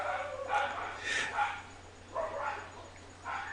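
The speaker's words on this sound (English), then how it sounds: "The dog's fighting over something completely some wild pig should not be there." Dogs fighting over something, a run of yipping, barking bursts at moderate distance, coming in uneven clusters.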